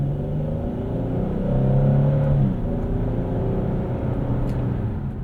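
A 2009 Hyundai Genesis V6 pulls hard under acceleration, its engine note rising and swelling in a steady continuous drone heard from inside the car, with no talking over it.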